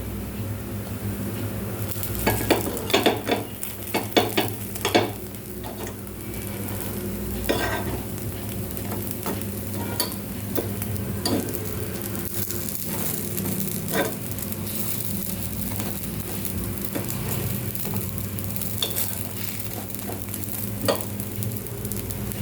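Appe frying in an appe pan hiss with a continuous sizzle while scattered clicks and scrapes mark the dumplings being turned, busier early on and then settling into steady frying.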